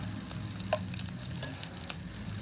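Garlic bread, buttered and seasoned with salt, pepper, granulated garlic and Parmesan, pan-frying in a hot pan outdoors on a patio, giving a steady close sizzle with a few light scraping clicks.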